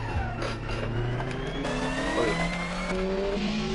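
A tuned touring car in a racing video game revs hard and continuously, engine note climbing steadily with layered whines from nearby cars, loud and without talk.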